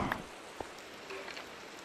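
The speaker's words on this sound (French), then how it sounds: "Oh, il pleut." Soft, steady rain hiss in a Minecraft-style survival game, a faint continuous patter with a couple of small clicks and thuds over it.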